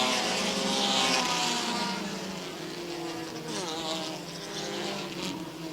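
Stock cars roar past on an oval during a race, a loud continuous engine drone with a rising-and-falling pass-by whine near the middle, dense and steady throughout.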